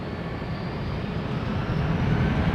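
At London Heathrow, jet engines spool up for takeoff in a continuous low rumble that swells slightly toward the end, with no talking.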